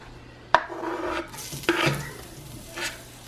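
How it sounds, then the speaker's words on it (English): Garlic hitting hot oil in a pan, with a quick sizzle and a few close clinks and scrapes of a utensil stirring against the pan, brief and moderately loud. "Once that's warmed up, I'm gonna add in my garlic."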